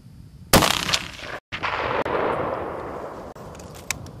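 A sharp, loud rifle shot rings out on a trophy elk hunt in Alberta, Canada, then rolls into a long reverberating echo across open country, with a brief gap and faint noises after.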